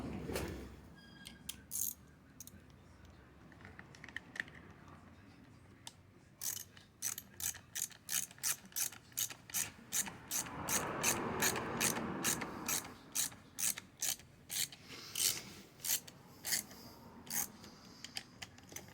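Ratchet wrench snugging down the carburetor nuts on a Stihl FC90 edger, a rapid run of sharp close clicks in quick bursts, steady and rhythmic through most of the stretch, with no talking.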